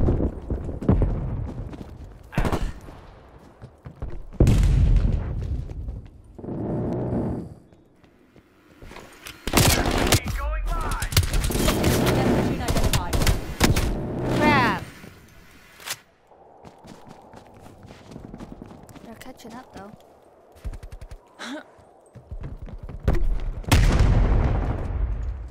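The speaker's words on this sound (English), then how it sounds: "So many explosions." Explosions and bursts of gunfire in the video game Call of Duty Cold War: loud booms, rapid automatic fire and scattered single shots, broken by brief lulls and footsteps.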